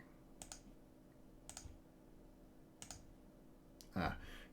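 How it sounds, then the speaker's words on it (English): Computer mouse clicks during work in Siemens NX CAD software come in faint pairs and short bursts, spaced about a second apart in a quiet room. A brief voice is heard near the end. "Profile, click, click."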